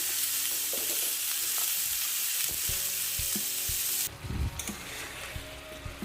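Red amaranth greens fry in a pan while being stirred, a steady sizzle with scraping clinks of the spoon, shifting to sharper, more broken stirring noises near the end.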